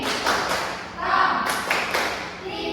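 Primary school pupils in a fifth-grade science class join a rhythmic classroom clapping chant, with grouped claps and taps in bursts mixed with their chanting voices.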